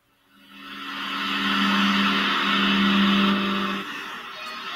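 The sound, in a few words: Audi TT car engine driving in Gran Turismo 6 video game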